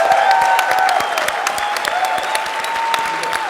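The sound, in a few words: audience round of applause for panel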